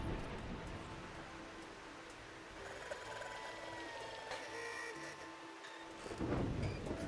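Stormy weather in the video game Diluvian Winds, a steady wash of rain with low rumbling thunder rolling underneath, continuous and fairly full throughout, swelling slightly near the end.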